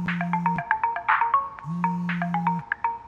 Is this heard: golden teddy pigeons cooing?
no